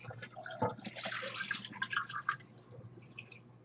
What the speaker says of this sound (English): I'm going to go ahead and just pour it in my sink.